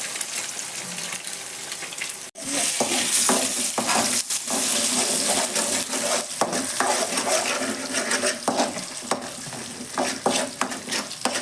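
Eggs crackle and sizzle in a hot pan, with repeated stirring scrapes and taps against the metal and a sharp break partway before the loud frying resumes.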